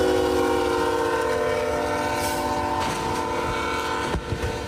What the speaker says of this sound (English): A train barreling down on, then tearing through the back end of a tractor trailer.